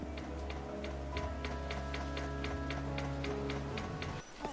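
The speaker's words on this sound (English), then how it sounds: "there's a timer slowly ticking away until the world ends" A countdown timer in the video game Lightning Returns ticks in a steady, even rhythm over a low, sustained musical drone, the ticks quiet and unhurried throughout.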